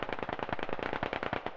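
Rapid automatic gunfire in a multiplayer military video game event, a dense string of sharp close shots fired in quick bursts with no pauses and no voices over it.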